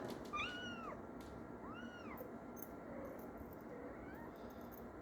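A female cat in heat gives several drawn-out, rising and falling meows, about three distinct calls spaced a second or so apart, fairly faint against a steady background hiss.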